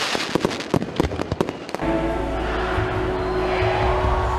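New Year fireworks over the Caspian seaside in Baku: a rapid string of sharp firecracker bangs and pops, then a dense, continuous roar of bursts and crackle, loud and close.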